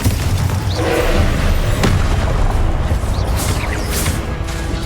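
Repeated booming spell blasts of Confringo in the Hogwarts Legacy video game, loud and continuous with dense rumbling impacts and crackling bursts layered over game ambience.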